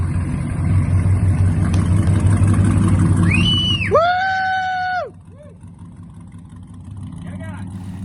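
An off-road race vehicle's engine roars at the start of the Baja 1000. A loud, close rumble carries a rising, strongly pitched whine for a few seconds, then drops to a quieter steady drone.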